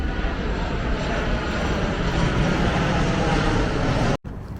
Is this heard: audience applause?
no